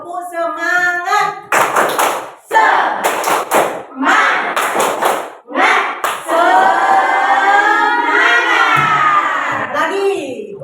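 A group performing the rhythmic tepuk semangat spirit clap in a classroom, close bursts of claps mixed with loud shouting and chanting voices.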